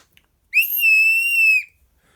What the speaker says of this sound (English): Nice little whistle.